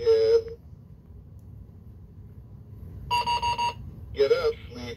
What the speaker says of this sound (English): I need to push this little button here. There we go, to get the alarm to go.